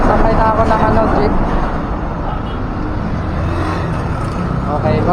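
A jeepney rolls through Philippine traffic toward SM Mall of Asia, its steady engine rumble and road noise filling the whole stretch, with a voice talking over the din.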